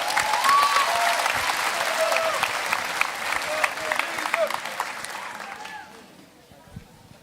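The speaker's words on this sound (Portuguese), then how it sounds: "dê um aplauso para o Senhor." A church congregation claps together in sustained, dense applause during a salvation and miracles crusade, with cheering voices mixed in, steady for several seconds before tapering off into quieter scattered claps.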